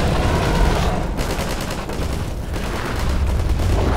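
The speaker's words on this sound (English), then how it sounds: "Okay, so it can shoot fire." A creature shooting fire in the Garry's Mod Pathogen map, a loud continuous crackling roar with rapid bursting pulses, close and unbroken for several seconds.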